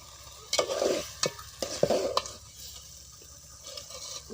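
Spices being stirred into aloo and egg curry frying in a pan: a few scraping stirs in the first two seconds over a soft, steady sizzle that carries on alone afterwards.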